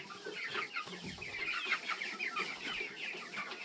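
Chickens in a coop cluck softly and continuously, several birds overlapping in a busy, fairly faint murmur of short calls with no talking.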